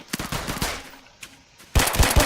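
Bursts of gunfire in the Roblox video game, a cluster of quick shots early, a quiet stretch with a couple of faint pops, then a loud rapid volley at the end.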